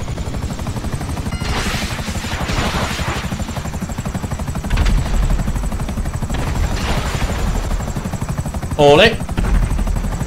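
Helicopter in GTA Online, a steady whirring rotor drone filling the whole stretch at close range, with a brief spoken exclamation near the end.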